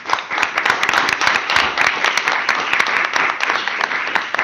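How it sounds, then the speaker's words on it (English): An audience at a development conference side event gives the panel a loud, sustained round of applause, many hands clapping densely close by. "I'd like to give our panel a huge round of applause"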